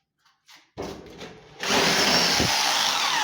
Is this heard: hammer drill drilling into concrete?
yes